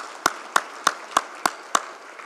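Six sharp, evenly spaced claps in a steady rhythm from the audience at a memorial symposium for the late Benjamin Mkapa, each one distinct against a quiet background.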